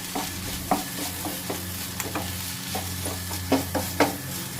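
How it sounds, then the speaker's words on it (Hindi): Paneer filling frying in a pan under a steady sizzle, with repeated spatula scrapes and taps against the pan at an irregular pace, close by and with no talk. "इसे चलाते रहना है। इसे हमें उतना ही फ्राई करना है जिससे कि इसका मॉइस्चर है वो खत्म हो जाए।"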